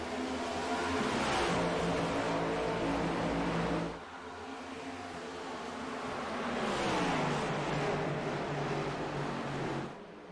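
Several stock cars in a racing video game roar past after the green flag, engines droning loud and steady with rising and falling pitch as the pack passes in two sustained waves.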